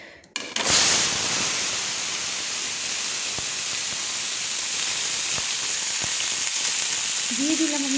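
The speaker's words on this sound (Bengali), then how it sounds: "তো আলুগুলো আমি প্রথমে ভেজে নিচ্ছি" Diced potatoes, washed and cut small, sizzle loudly in hot oil for a potato-and-prawn curry, a steady close hiss starting after a brief thump, with a faint voice near the end.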